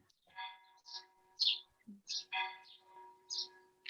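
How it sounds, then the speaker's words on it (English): A bell rings with sustained ringing tones that hold steady through the whole stretch, moderately loud, while brief chirp-like sounds come and go over it. "There is a bell here. So it's the right time. The bell is ringing."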